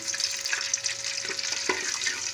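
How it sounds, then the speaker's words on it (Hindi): Whole spices sizzle in hot oil as a steady, close frying hiss that fills the whole stretch, with a brief stir or scrape near the end. "खड़े मसाले अब 10 सेकंड के लिए खड़े मसालों को भुनाई कर ली"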